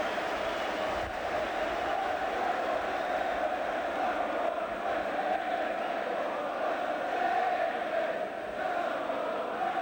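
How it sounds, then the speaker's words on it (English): A football crowd of Swindon Town supporters sings together in a stadium at a match against Gillingham, a dense, sustained roar of many voices chanting in unison, heard at a distance and fairly even in loudness. "And the Swindon crowd are singing"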